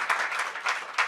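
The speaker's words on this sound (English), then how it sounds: "So let's give them a round of applause." Brief burst of audience clapping for a human rights student panel, a short patter of many hands from a moderately close crowd.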